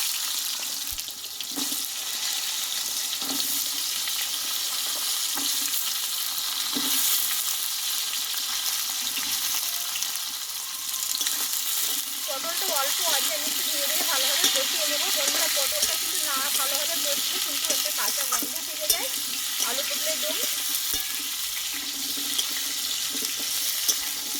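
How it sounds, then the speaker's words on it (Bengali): Cut pointed gourd fries in refined oil in a wok with a steady, close sizzle and crackle that runs throughout, broken by occasional clinks of stirring. "এবার কেটে রাখা পটলটা আমি কষে নেবো আগে"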